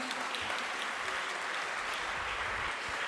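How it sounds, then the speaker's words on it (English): Steady, dense applause from a conference audience at a semiconductor event, continuous and even for the whole stretch with a faint voice underneath. "May I ask the audience to give a big round of applause"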